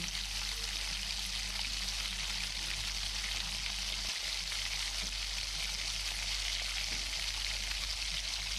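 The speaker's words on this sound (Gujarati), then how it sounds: "હવે આપણે તેમાં 1/4 ટીસ્પૂન જેટલું હળદર પાવડર એડ કરીશું. તેને પણ આપણે સારી રીતે મિક્સ કરી લેવાનું છે." A steady, even sizzle of pav bhaji masala frying in a pan as turmeric powder is stirred in, continuous and close with no talking.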